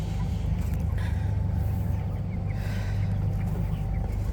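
Broiler chickens crowd a poultry shed on about day 33 of the flock, giving a dense, continuous clucking murmur over a steady mechanical hum throughout, with no voices.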